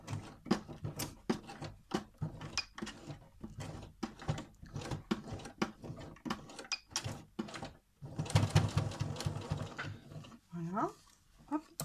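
A sewing machine stitches a fabric cuff with a 1 cm seam, running in quick rhythmic bursts with short pauses between. A voice speaks briefly toward the end.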